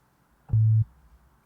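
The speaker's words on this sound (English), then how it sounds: "we got a sine wave, which is not what we want." A synthesizer plays a single low, pure sine wave tone lasting about a third of a second, steady and clean against near silence.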